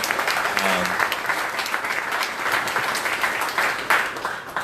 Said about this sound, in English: Let's give these guys a round of applause for coming out.